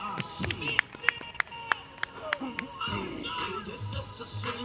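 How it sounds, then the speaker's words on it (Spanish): An audience at a clown show in Tehuacán, Puebla claps for a participant named Dayana, with sharp, uneven handclaps standing out over crowd murmur and a voice talking, thinning out toward the end. "fuerte el aplauso para Dayana"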